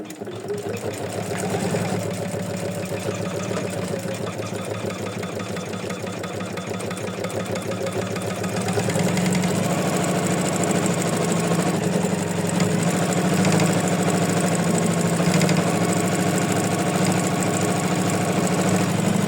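Embroidery machine stitching an in-the-hoop 4x4 heart design, a steady, fast mechanical whirring hum that runs continuously and grows slightly louder partway through, with no talking.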